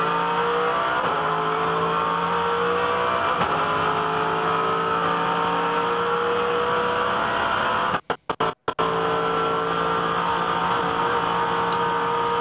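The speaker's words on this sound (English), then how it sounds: "You can hear the drivetrain, the gearbox, everything just working." A 2010 V8 Supercar at the Bathurst 1000 race, its drivetrain and gearbox whining loudly and steadily through onboard engine roar with rising and falling pitch, briefly cut by a few abrupt dropouts near the end.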